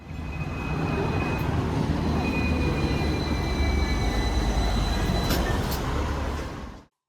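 Steady rumbling inside a moving Hong Kong tram, continuous low roar with faint high squeals from the rails, close and loud throughout before cutting off.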